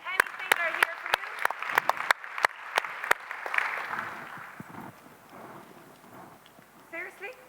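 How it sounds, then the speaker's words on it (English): Audience at a convention opening ceremony claps for the event crew in a scattered, uneven burst of sharp separate claps that thickens into a brief wash of applause, then fades under murmuring talk. "give them a round of applause"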